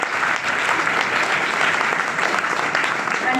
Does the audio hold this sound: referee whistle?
no